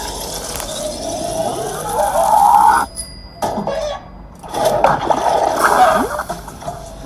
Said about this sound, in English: You hear that? That's the sound of sizzling.